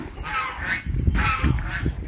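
Ducks calling from a pen on a dry-season farm: two loud, nasal quacking bursts close by, with low rumbling noise underneath.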